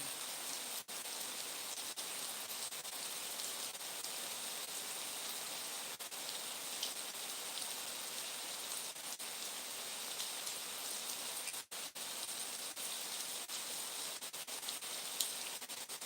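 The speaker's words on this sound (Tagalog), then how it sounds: "Ang lamig. Umuulan." Steady rain falls on a cold, foggy day, a dense even hiss of drops on surfaces that continues unbroken, with a few faint knocks and no voices.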